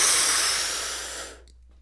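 A person takes a long, deep breath in during a guided breathing exercise, a steady airy inhalation that fades out into near silence.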